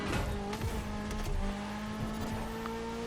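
A car racing in the driving game Crew Motorfest, with the engine droning steadily and tires squealing in short bursts as it slides through turns.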